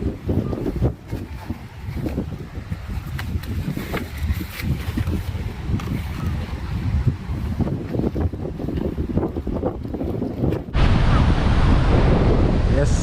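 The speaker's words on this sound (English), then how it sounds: "It's a bit windy." Strong wind buffets the microphone at Haulover Beach while surf rolls in, a loud, continuous rushing roar that swells to a heavier blast near the end.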